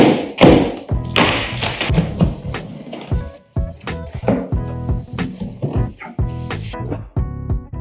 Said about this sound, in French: Je propose de terminer l'inspection de l'emballage et commencer à déballer la pompe.